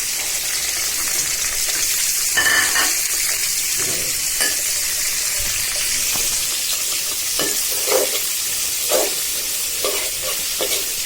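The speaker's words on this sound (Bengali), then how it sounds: "এবার আমি কেটে রাখা পেঁয়াজ, রসুন আর হচ্ছে কাঁচামরিচ দিয়ে দিচ্ছি।" Chopped onion, garlic and green chili fry in hot oil for red spinach, a steady loud sizzle with scattered spatters and stirring scrapes throughout, no voices.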